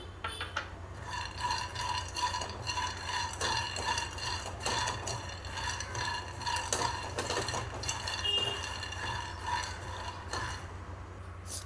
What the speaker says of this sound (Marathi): इथे मी एक वाटी शेंगदाणे घेतलेले आहेत तर तेही परतून घेऊया आपण